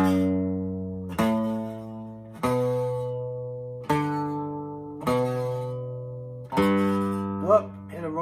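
A beginner works slowly through a tune on guitar, plucking separate notes about a second apart with pauses between them. Near the end a fumbled note breaks the line.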